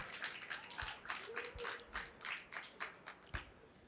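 Sparse, faint clapping from a small group, individual claps distinct and uneven, tapering off as it goes.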